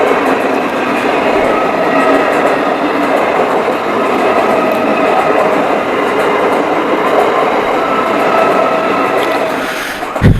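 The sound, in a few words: passing train on the Sealdah–Bongaon line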